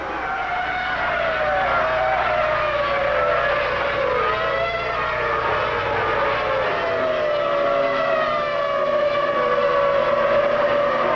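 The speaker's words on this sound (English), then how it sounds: "Hill chops across to the racing line as they head into the Grand Curb for the first time." Formula 1 race cars at the 1996 French Grand Prix, a continuous high engine whine that shifts in pitch as the cars pass, loud and steady with crowd-free track ambience throughout.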